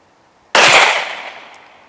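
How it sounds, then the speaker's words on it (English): A single sharp pistol shot from a Walther PDP F or Glock 19 at a shooting range, loud and close, with a short decaying ring after the report. "We're going to do 10 shots."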